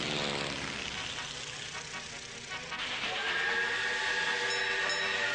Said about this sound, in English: A big train.